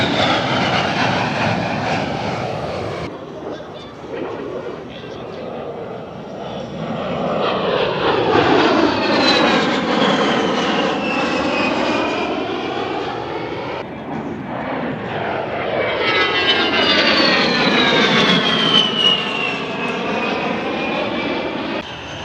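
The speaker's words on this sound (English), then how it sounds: "here comes the A-10 Warthog, I think" An A-10 Warthog jet roars past at an air show, its turbine whine and rumble swelling in two long, loud passes with a sweeping Doppler pitch drop, heard alone without talk.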